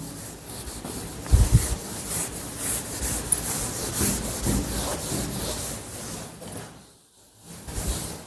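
A board eraser rubs chalk or marker writing off a classroom board in steady back-and-forth strokes, close and fairly loud, with a brief pause near the end.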